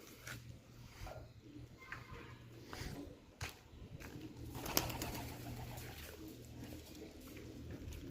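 Low pigeon cooing repeats steadily in the background, soft and continuous, with a few faint bird chirps and light shuffling noises.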